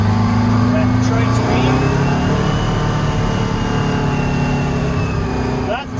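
A Detroit 8V71 two-stroke diesel in a truck with a 13-speed transmission holds steady near 2,000 RPM, a loud, continuous, buzzing drone throughout, with a voice talking over it.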